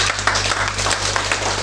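A short burst of applause from a small group of people gives dense, steady clapping over a low hum, lasting under two seconds.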